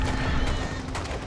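Rapid gunfire from the video game Starship Troopers Extermination, a dense burst of close, loud shots over about a second with a steady background hum.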